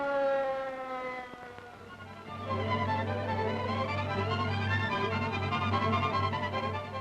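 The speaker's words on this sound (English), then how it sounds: "The ambulance is coming. Clear the way." An ambulance siren wails, its rising and falling tones starting clearly, then continuing over a low steady drone, fairly loud and sustained without speech; a 1951 film recording.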